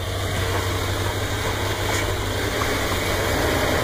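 A car engine running steadily in first gear, a loud, continuous low drone with constant vibration and no breaks, heard close up.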